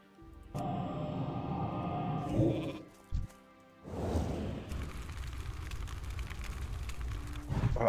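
A mage's spell turns an enemy into a sheep in a fantasy video game, giving a loud bleat after a whooshing cast, then a softer trailing swish and ambient hum.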